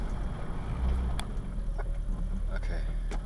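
A 1980 Honda Civic with stiff brakes and no power steering rolls slowly from a high idle, its low engine drone steady under occasional faint clicks and knocks from inside the cabin.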